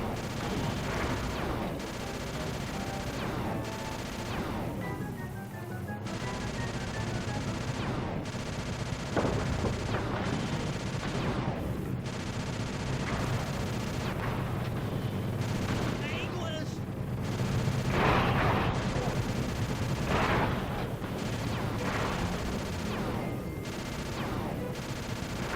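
Repeated bursts of gunfire and heavy blasts sound throughout a shooting sequence in the video game Sly 2: Band of Thieves, dense and continuous.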